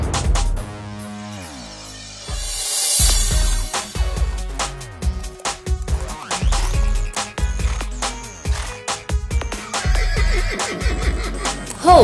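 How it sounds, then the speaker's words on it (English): A horse whinnies once with a long, high, descending neigh, followed by steady rhythmic percussive beats and tones. "Horse. H O R S E horse."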